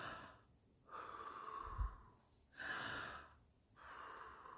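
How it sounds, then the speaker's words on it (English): Slow, deep breathing exercise up close: three long, airy breaths with pauses between them, and a soft thump partway through. "Do a breathing exercise."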